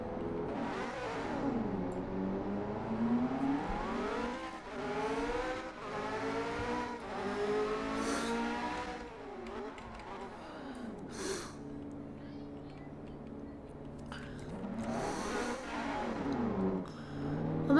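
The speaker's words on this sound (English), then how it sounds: "This car goes so slow." A slow car engine in a video game hums and revs in long rising and falling sweeps, fairly quiet and steady, with no one talking.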